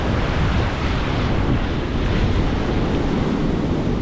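Rough fall surf breaks on the New Jersey shore, a loud, continuous roar of crashing waves mixed with wind buffeting the microphone.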